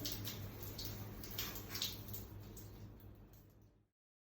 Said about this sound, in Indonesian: Setelah sudah selesai membilas, matikan keran air menggunakan siku